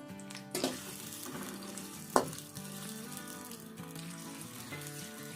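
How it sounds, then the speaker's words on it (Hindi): Onions sizzle steadily in hot oil, a constant frying hiss with a couple of sharp clinks of a utensil against the pan. "ये देखिए प्याज हमारा फ्राई हो रहा है"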